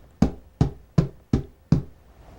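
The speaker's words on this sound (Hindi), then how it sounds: "मैं दरवाजे पर, तेरे घर, तेरे दरवाजे पर खटखटाता हूं" Five firm knocks on a door, evenly spaced about a third of a second apart, close and dry with nothing else audible.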